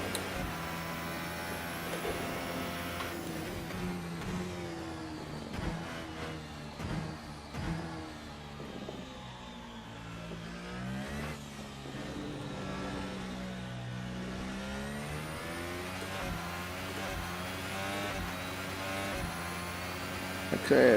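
An F1 car engine from a racing video game on a hot lap of the Chinese Grand Prix circuit, loud and continuous, with harmonic whine rising and falling through gear changes and revving, with a voice talking over it.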